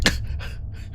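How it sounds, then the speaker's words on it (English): A sharp gasp followed by a few ragged, breathy inhales and exhales, close and fairly loud, like someone struggling for air. "and Nefero gasps a few times"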